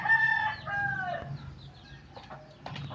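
Chickens cluck and a fighting rooster crows loudly up close, followed by scattered squawks and clucks from the flock.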